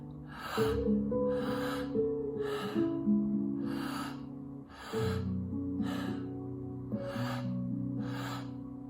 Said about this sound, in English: Keep breathing on your own.